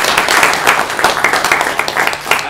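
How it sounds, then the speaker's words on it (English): An audience at a debate event claps for a speaker being introduced, loud close applause with uneven bursts of individual hand claps pulsing through. "Let's give her a round of applause"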